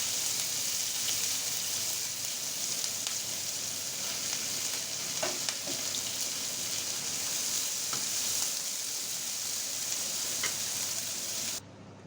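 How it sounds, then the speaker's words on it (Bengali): Dried red chilies and chopped onion frying in a pan, a steady, moderately quiet sizzle with scattered crackles and occasional utensil clicks, continuing alone until an abrupt drop at the end. "মরিচটা আমি লাল লাল করে ভেজে নেব"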